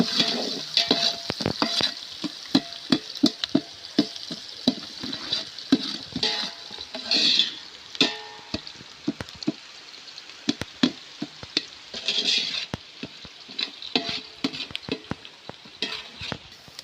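Onions sautéing in a pan until golden and soft for biryani, stirred with quick repeated scrapes and knocks over a steady close sizzle, fairly loud and continuous with no talking.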